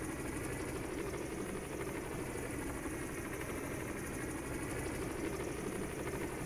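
A helicopter in Microsoft Flight Simulator 2020 drones steadily with a low rotor and engine rumble, constant and fairly quiet throughout, flying slowly with no talk over it.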